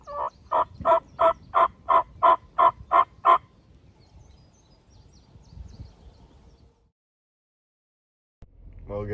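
Wild turkey in Wisconsin woods gobbling in a rapid run of about ten evenly spaced, loud calls, followed by quiet rustling and a faint later sound.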